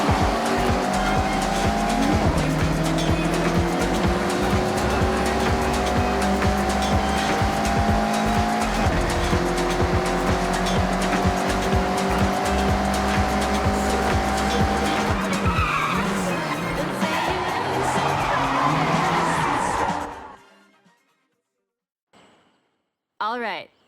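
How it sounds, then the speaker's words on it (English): Mazda MX-5 drifting sideways through corners in the racing game Forza Horizon 6, tires squealing loudly and continuously over a droning engine for about twenty seconds before cutting off to near silence. "Attack these corners. Don't worry about traction. The MX-5 likes to be sideways."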